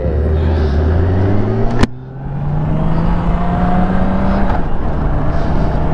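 A BMW K1600B Midnight Edition six-cylinder cruiser motorcycle pulls away in first gear, its smooth engine rising in pitch, then briefly interrupted by a shift before climbing again, loud and close with wind noise and no talk.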